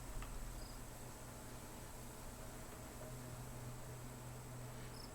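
A swarm of bees in the survival game Raft gives off a faint, continuous buzzing hum that runs steadily underneath a low background hiss, with no talk.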